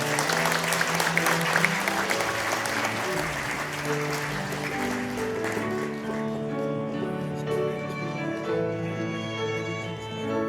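Guests at a wedding ceremony give a steady round of applause that fades into background music, with a voice speaking over the sound.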